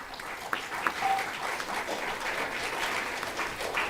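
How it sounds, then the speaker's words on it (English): A room of people applauding a youth group at a Sunday feast program, a moderate, steady patter of many hands clapping, slightly distant, with a couple of louder claps near the start. "Please give them a big round of applause."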